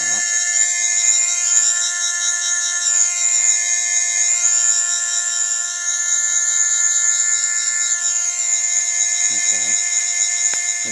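A stepper motor driven by a real-time PWM timer emits a steady, loud, nearly pure high whine with slowly wavering pitch, continuous throughout, with a brief low warble near the end.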